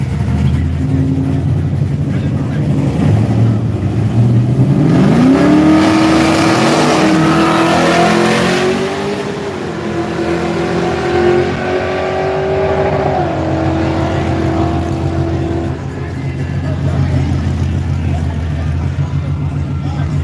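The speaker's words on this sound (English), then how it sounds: "I like all that noise this Trans Am making" A Pontiac Trans Am engine revs loudly and continuously, its pitch climbing and falling over a steady low rumble, with brief voices under the noise.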